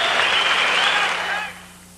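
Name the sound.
boxing crowd reacting to Edwin Rosario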